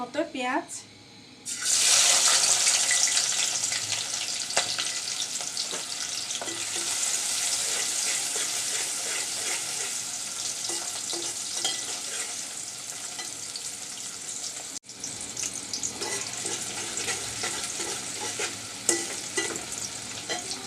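Onions drop into hot oil in a pot with a sudden loud burst of sizzling that settles into a steady, close frying hiss, with occasional stirring scrapes and a voice talking briefly over it.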